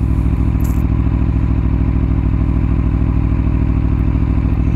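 An Aprilia Tuono 1100 motorcycle engine runs loud and close with a steady, throbbing idle rhythm throughout, without voices.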